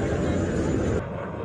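An Indian-built Tejas fighter jet roars past at a Dubai air show, a loud, broad, continuous engine rush lasting a moment before easing slightly.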